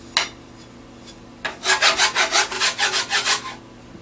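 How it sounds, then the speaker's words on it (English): Hand file rasping across a wooden boomerang, a single stroke followed by a quick run of about ten rhythmic back-and-forth strokes, close and crisp with no talking. "on straighter areas, such as that, I'll use the flat edge of the file"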